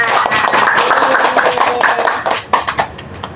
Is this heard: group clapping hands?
yes